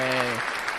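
A short soundboard applause effect, a burst of clapping that starts over a brief sustained tone and carries on loud and close for under a second.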